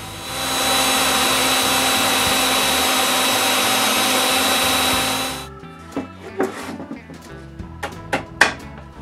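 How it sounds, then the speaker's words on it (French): A power drill boring holes edge to edge through the wooden back arch of a chair being restored, a steady loud whine for several seconds that stops abruptly, then a few light knocks and clicks of wood. "je perce les deux derniers trous qui vont de bord en bord de l'arche du dossier"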